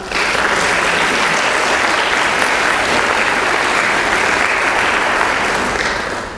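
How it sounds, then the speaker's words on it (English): Convocation audience gives sustained applause, a dense, even wash of many hands clapping at steady loudness from start to finish. "we can certainly give her our applause"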